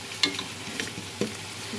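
Short burst of cinnamon, cloves and cardamom crackling in hot oil, a light close sizzle with a few sharp pops and a spoon clink.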